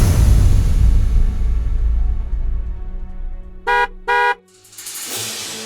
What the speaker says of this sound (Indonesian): suara mobil, Pak.